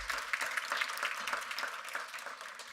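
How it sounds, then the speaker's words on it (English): Conference audience applauding steadily, a dense patter of many hands clapping throughout without pause, moderately loud and heard from within the room. "Let's give her another round of applause."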